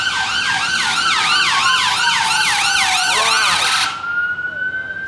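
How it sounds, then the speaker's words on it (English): Wailing ambulance siren sweeping up and down in steady cycles beside a busy London ambulance station in Great Eastern Street, loud and close, with a second steady tone under it, cutting off abruptly near the end. "That was a very common noise of living in this house. Right next to London's busiest ambulance station."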